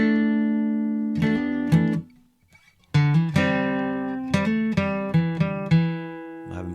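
Electric guitar strumming slash chords, ringing chords with a short pause, then a run of rhythmic strums and embellishments, played alone and close.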